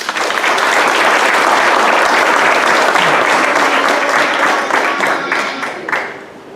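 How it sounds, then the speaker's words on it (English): An audience at a school board meeting gives loud, dense applause for a group of students. The sustained clapping fills the room and tapers off near the end. "So if we can give one more round of applause for these students"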